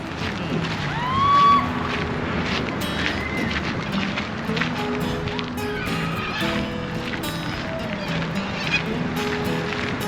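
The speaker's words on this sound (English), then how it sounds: "Some sort of water bird." Unidentified water birds call outdoors near a skate park, a few honking, goose-like cries with one louder call early on, over steady wind and background noise.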